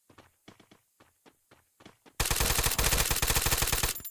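Gunfire in the Free Fire battle royale game, with a string of separate single shots followed by a loud, sustained burst of rapid automatic fire that runs to the end.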